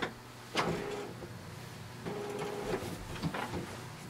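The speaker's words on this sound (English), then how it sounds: "and close the tray." Paper tray of an HP Envy 7155 printer sliding shut, a couple of short plastic clunks and scrapes with faint mechanical whirring between them, close and fairly quiet with no talking.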